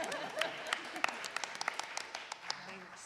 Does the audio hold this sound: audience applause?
yes